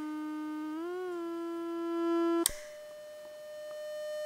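A dry DIY synthesizer tone, played without effects, holds a steady pitch, bends briefly, then cuts off with a sharp click before a new, lower tone sustains, plain and unprocessed.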